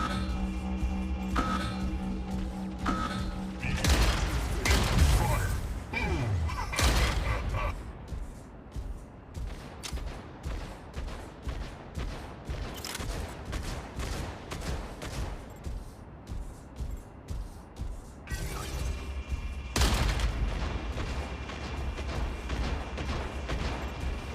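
Fragment gun firing in the Mech Arena video game, a close-range shotgun-style mech weapon; dense bursts of blasts and rapid repeated shots come in waves, loud and near, with a quieter stretch of steady rhythmic fire in between.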